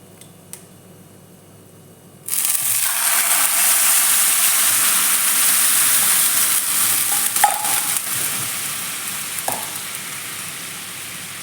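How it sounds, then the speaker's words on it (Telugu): Thick curd added to a hot kadai, where it sets up a sudden loud, steady sizzle and hiss that continues close by for about nine seconds, with faint stirring scrapes beneath it. "సేమ్ కడాయిలో మనం పెరుగు ఉంది కదా గడ్డ పెరుగు ఇది వేసిద్దాం"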